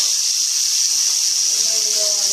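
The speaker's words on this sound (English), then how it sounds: "turn the sink on" Water runs from a sink tap in a steady, loud hiss that continues unbroken and close by.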